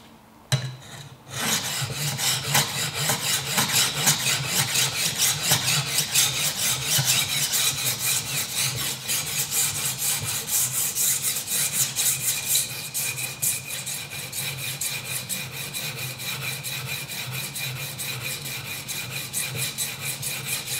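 An Aries ham knife drawn steadily over a whetstone, a rhythmic rasping scrape repeated in quick, even strokes for a long stretch, close and fairly loud, with no one talking.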